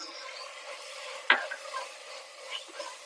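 Chopped tomatoes are stirred into a pan for Vaniyambadi chicken biryani: a soft background sizzle, one sharp spoon-against-pan clatter, then quieter scraping stirs.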